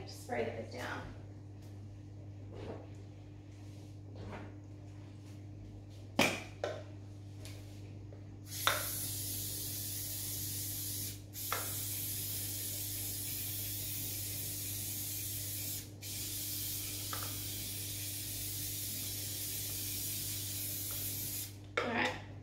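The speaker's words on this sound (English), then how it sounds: "I'll get some spray to spray this down." Cooking spray hisses from a can over a muffin tray in a home kitchen, a sustained close spray lasting several seconds with short bursts and clicks before it, a person talking.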